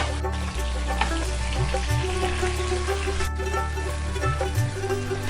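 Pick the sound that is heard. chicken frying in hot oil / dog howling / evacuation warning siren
chicken frying in hot oil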